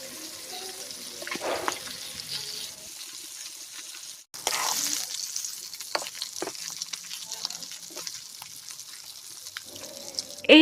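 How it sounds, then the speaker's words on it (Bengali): Pond fish coated in spices fries in hot oil in a pan, a steady close sizzle broken by a brief pause and scattered clicks as the pieces are turned, with no talking. "জাস্ট এপিট ওপিট করে একটু ভেজে নিচ্ছি।"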